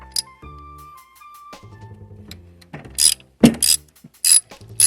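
A ratchet works loose the valve cover bolts on a Chrysler 300, giving quick clicking pawl bursts and metallic clanks close up, interrupted by pauses and mechanical tones.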